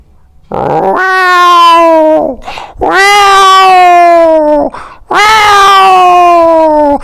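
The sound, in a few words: man imitating cats fighting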